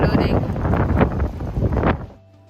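Strong wind buffets outdoors during a storm warning in Germany, gusty rumbling bursts against the microphone that swell and fade before cutting off into near quiet.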